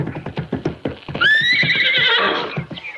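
In a 1950s radio detective drama, a horse at a riding ring gives a loud, rising whinny over a run of rhythmic hoof clip-clops, the whinny trailing into snorting breaths.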